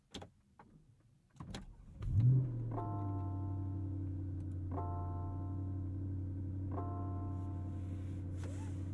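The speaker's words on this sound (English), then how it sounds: "Twin turbo V8 fires up for us." A Porsche Panamera GTS twin-turbo V8 starts inside the car after a few clicks and a whir, firing with a sharp swell and then settling into a low, steady idle hum, while soft chimes repeat at regular intervals.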